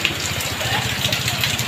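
A downpour drums on a moving vehicle as a low engine drone throbs steadily beneath it, the rain's hiss and splash dense and close throughout.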